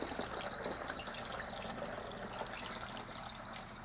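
Water poured steadily from a jug through a funnel into a container during a school weather experiment, a continuous close splashing trickle filling it about three-quarters full, alone without talk.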